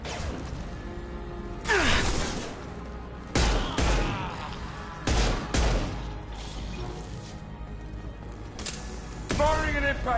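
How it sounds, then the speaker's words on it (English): Impact shots from a Mass Effect Legendary Edition shotgun fire in several loud, sharp bursts with whooshing trails, separated by short gaps. Someone talks over the combat. "Firing an impact shot."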